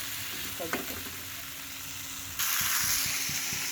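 Turmeric and salt hit hot oil with a steady, bright sizzle that turns louder and harsher partway through, close up, with a few faint clinks and stirring taps underneath.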